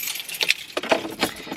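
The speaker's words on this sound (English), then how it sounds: "I need my keys to turn on my car." Car keys jangle up close in a few quick bursts of bright metallic clinks, irregular and brief, with no talking.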